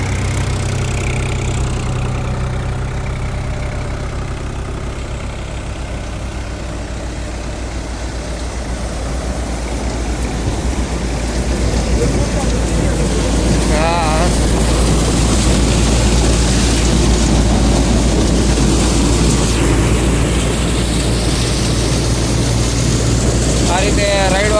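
A tractor-driven Nataraj 2025-model thresher works through mustard, its engine held near 1300 RPM, producing a loud, steady mechanical drone and rattle throughout, with voices talking over it.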